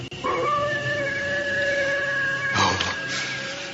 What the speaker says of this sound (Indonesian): Suara lolongan serigala.